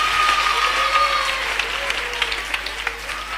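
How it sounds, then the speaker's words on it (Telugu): An audience claps in sustained applause for children presenting at a Christian children's festival, with a steady wash of clapping and a few sharper claps standing out near the end. "గట్టిగా ఒక క్లాప్ ఇద్దామా వాళ్ళందరికీ."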